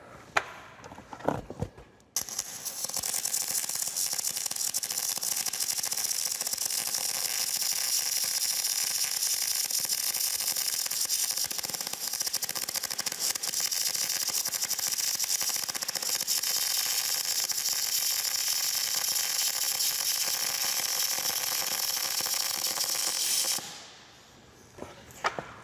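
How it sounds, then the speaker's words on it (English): MIG gas metal arc welding with the contact tip held too far from the work, a steady loud crackling hiss lasting around twenty seconds, close by, with brief clicks before and after. "So I'm going to weld one of these, and you'll be able to hear some of that."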